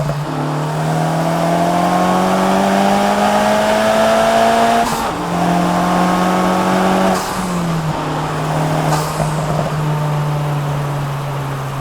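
Acura Integra Type S accelerating hard at wide open throttle, its engine note climbing steadily through the gears with brief dips at each shift, loud and close from inside the car, alone without talk.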